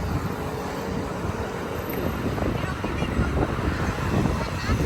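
Strong evening wind along Davao City Coastal Road by the seawall, a steady low roar of buffeting wind noise filling the whole stretch, loud and continuous with no other clear sound.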